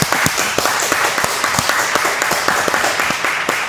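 A studio audience at a Hiligaynon talk show claps in steady, loud applause, dense hand claps filling the whole stretch without a break.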